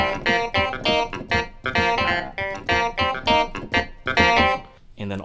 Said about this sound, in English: so even under the electric piano sound, you have a clav sound like this.